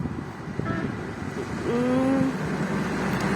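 The Idhaya college bus drives past over a low roadside hum of traffic, its engine swelling as it nears, with a brief horn-like toot partway through.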